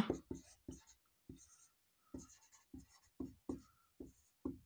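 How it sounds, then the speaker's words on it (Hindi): Writing on a board during a class 10 maths lesson on quadratic equations: a series of short, distinct scratching strokes in irregular bursts, close and clear, with no talk. "अब हम यहाँ पर लिखेंगे, माना जॉन के पास"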